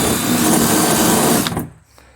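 A power drill run sideways and rattling as it chews through an old abandoned semi trailer, a loud continuous buzzing whine that holds steady, then cuts off abruptly with a couple of faint knocks after.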